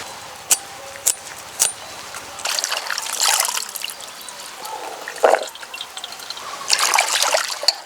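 Leafy greens being rinsed in water: a few distinct drips come first, then bursts of splashing and trickling as the leaves are swished and lifted, close and fairly loud.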